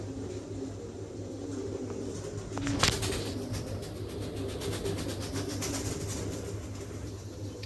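Pigeons, an Andalusian male and a checker female, coo softly amid a steady background hum, with a brief rustle or flutter near the middle and no talking.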